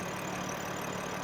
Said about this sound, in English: underneath the hood is a detuned S58 inline-six 3-liter twin-turbo engine